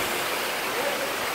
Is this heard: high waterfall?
yes